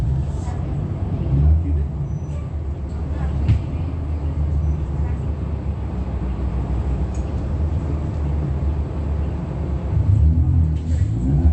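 Steady low exhaust rumble from a bus idling and moving near Ontario Mills, a continuous engine drone with a few brief swells and faint higher clatter, no talk over it.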